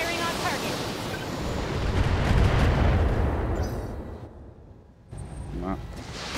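Heavy weapons fire in the mech combat game BattleTech, a long rumbling barrage of booming blasts that swells and fades before a brief quiet and renewed rumble.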